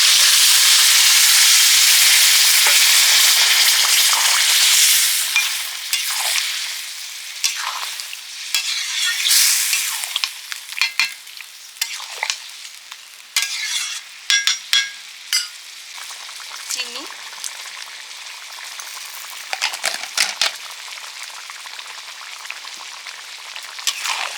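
Boiled vegetables tipped into sautéed spices in a hot pan, a loud hissing sizzle at first that settles, broken by repeated stirring clatters and scrapes of a spatula, with no one talking.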